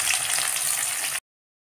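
Onions frying in hot oil for egg biryani, a dense steady hiss of sizzling that cuts off abruptly after about a second.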